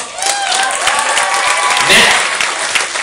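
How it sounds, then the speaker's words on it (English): A crowd at a small hip hop performance at a thrift store bursts into lively, close applause with scattered whoops, clapping steadily for about three seconds while voices mix in. "Let's give him a round of applause."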